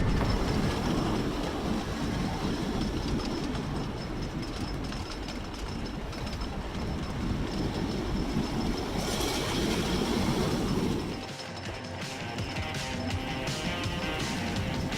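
A dense, loud rush of rattling and roaring roller coaster wheels on track, sustained throughout, with a sharp squeal and a slight drop near the end.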